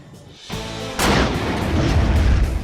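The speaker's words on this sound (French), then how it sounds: "L'explosion a peut-être reproduit la pression et la chaleur qui règnent au centre de la Terre" A powerful explosion meant to compress material into diamonds booms loudly, a sharp blast followed by a long rumbling roar that carries on without speech.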